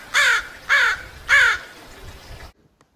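Three loud, harsh croaks from ravens come one after another at even intervals, each rough and buzzy, and are followed by a short stretch of quiet outdoor background before the sound cuts to silence.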